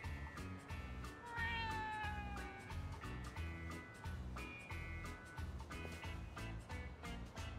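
A cat in the video game Like A Dragon meows repeatedly, a string of short and longer meows over a steady rhythmic musical backing.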